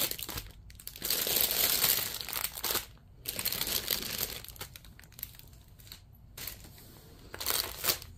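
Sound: crinkling of cross stitch kit packaging

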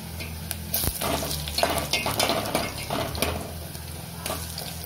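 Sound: onion and garlic frying in pan

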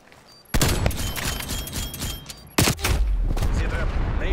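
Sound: sentry gun firing in video game Call of Duty Cold War

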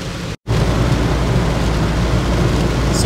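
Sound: rain and thunder heard from inside a Knaus Tourer Van camper

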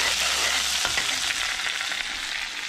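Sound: stirring onion, ginger and garlic frying in oil

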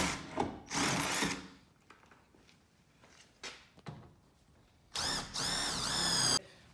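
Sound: power drill drilling holes for rivet nuts

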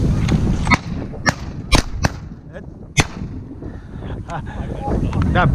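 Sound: shotgun shot at goose while hunting

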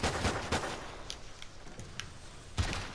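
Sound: gunfire in video game Call of Duty Ghosts

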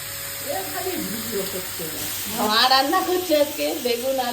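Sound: fish frying in a pan

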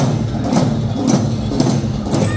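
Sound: Dhangari dhol drums played in a procession

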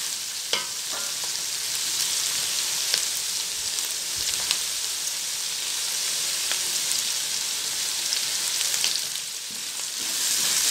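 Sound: curry leaves sizzling in hot oil

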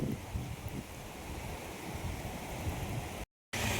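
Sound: flood water rushing at full force in Konkan rain

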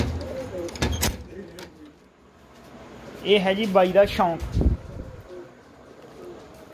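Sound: pigeons cooing in lofts

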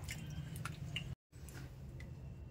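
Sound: washing chhena (cottage cheese) in water

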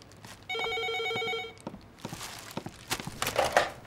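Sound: telephone ringing

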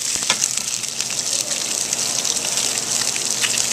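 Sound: olive oil swirled in a hot pan on the stovetop

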